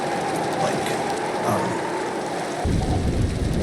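Heavy rain pours steadily in Minecraft with a weather datapack, with a dense hiss and a deep rolling rumble of thunder that swells near the end.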